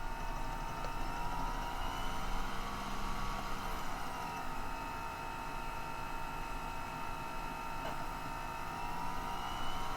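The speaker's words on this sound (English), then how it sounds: "The humming is my optical drive." A computer's optical drive spins with a steady, fairly loud whirring hum that holds constant throughout, with no speech over it.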